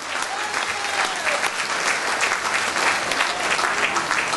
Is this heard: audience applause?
yes